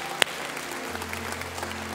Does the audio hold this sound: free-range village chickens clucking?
no